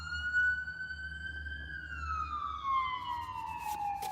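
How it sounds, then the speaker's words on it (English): Emergency vehicle siren wailing at moderate distance, one long tone slowly rising and then sweeping downward over about four seconds above a low rumble of road traffic. "The sirens."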